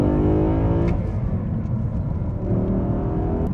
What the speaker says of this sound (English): I hope you can hear that engine.